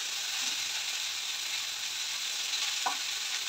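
Dried red chillies frying in a pan give off a steady, close hiss of sizzling oil, with a faint tap from the pan near the end and no talking.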